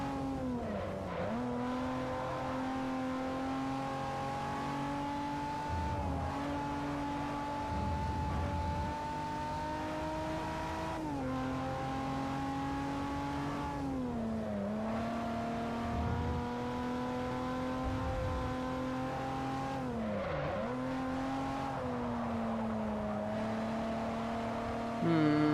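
Car engine in the Forza Motorsport 4 racing game, revving continuously with rising and falling pitch as gears shift every few seconds, a steady loud drone throughout with no talking.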